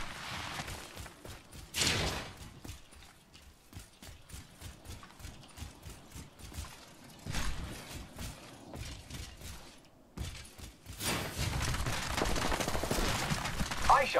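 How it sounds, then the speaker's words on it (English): Rapid gunfire in Apex Legends rattles through a busy 14-second firefight as a cargo bot is shot down, with repeated bursts and loud transients standing out against layered game sounds and effects. "I shot down a cargo bot."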